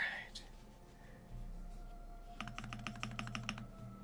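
Keys are typed on an AKB Petrichor mechanical keyboard fitted with HMX Hades switches. A quick run of clacky strokes comes in the second half, close and clear, after a quieter start.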